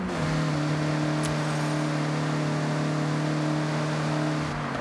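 A Mazda MX-5 engine drones steadily through corners in Forza Horizon, a loud, sustained hum with a constant pitch and no clear gear changes, briefly accompanied by a faint high squeal like tyre scrub.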